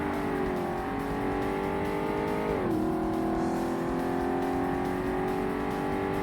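In a Shelby Cobra Cup race in the 2005 Xbox game Forza Motorsport, a rival race car's engine drones steadily close behind, with pitch sliding down then climbing again under a constant engine roar.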